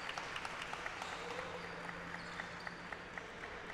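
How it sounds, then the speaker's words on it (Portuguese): Faint, distant applause from a small crowd at an under-23 Carioca championship football match between Botafogo and Tijuca, for an injured player, scattered claps against a steady background hum. "Sendo aplaudido aí, o Lucão"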